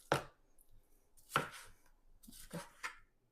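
Wild bison meat being cut with a knife, four separate heavy chops landing on a board at uneven intervals, close and crisp with quiet pauses between.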